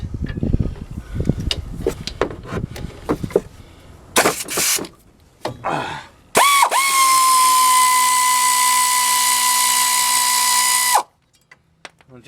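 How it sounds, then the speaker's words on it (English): Air tools loosening rear brake bolts on a General Motors vehicle: rapid rattling impact bursts, then a few short whirs and a long, loud, steady high-pitched spin that cuts off abruptly, followed by faint clicks. "But you know me, I'm gonna use some air tools."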